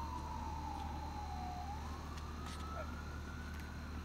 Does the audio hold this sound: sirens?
yes